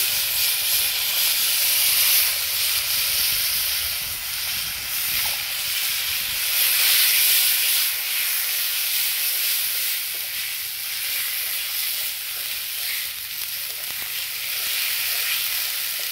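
Cabbage frying in hot oil in a pan with sugar, bay leaf and spices, a loud, steady sizzling hiss lasting throughout with slight swells, close up and without talk.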